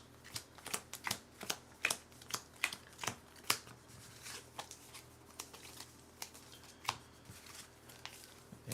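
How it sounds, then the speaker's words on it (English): A deck of cards for the Earthborne Rangers board game is shuffled close up, with a series of sharp riffling snaps coming at a steady rhythm, then sparser, quieter flicks toward the end, in an otherwise quiet room. "Shuffle that up. Shuffle those up, and we'll shuffle the challenge deck as we need it."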